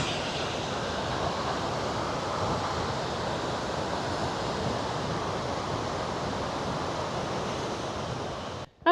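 Wapta Falls thunders from a distance as a steady, even roar of falling water, with some wind buffeting the microphone and no talking.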